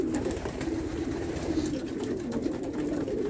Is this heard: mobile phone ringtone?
no